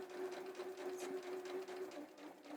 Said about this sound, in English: It's like drawing with your sewing machine.